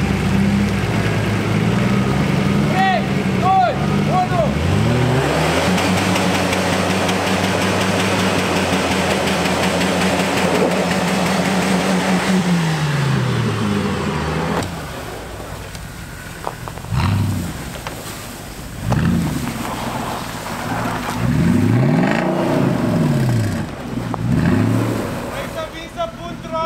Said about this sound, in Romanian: Bagă viteză, Paule!